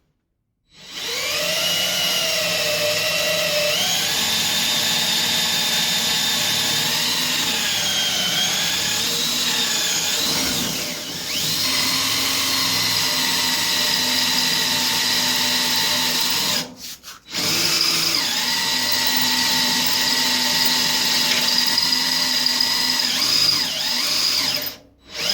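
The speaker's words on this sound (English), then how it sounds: "I'm going to start with just drilling one of the holes here and put a bolt in" Power drill boring holes for bolts during an EverClean installation, a loud high whine running for long stretches, with pitch shifts under load and two short pauses between bursts.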